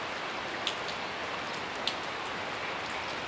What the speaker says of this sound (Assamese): এতিয়াও বৰষুণ দি আছে